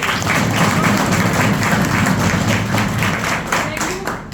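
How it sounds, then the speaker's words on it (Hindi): Dense, energetic clapping from a crowd at a business team gathering, continuous and fairly close, with a faint voice mixed underneath. "मिस्टर अमृते जी के लिए भी एक जोरदार ताली।"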